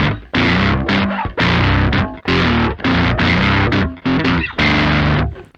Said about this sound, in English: Distortion, that's meant for baritones and basses. Works okay on regular 6 strings too.